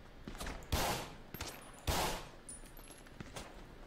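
Gunfire in a tactical shooter video game, two loud sharp blasts among scattered lighter shots and clicks, fairly close, with no talk.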